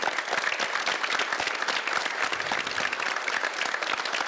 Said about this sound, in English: please give a big round of applause for our chief guest and all the dignitaries